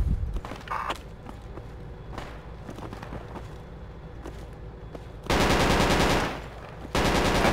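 Gunfire in the tactical shooter Project Reality during close-quarters fighting on a building, scattered distant shots and footsteps, then two long, loud, close bursts of automatic fire.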